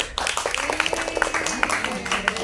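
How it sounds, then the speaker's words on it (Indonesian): Students clapping at a school Maulid Nabi celebration, a dense burst of applause over which a voice and other talk continue. "Tepuk tangan dulu."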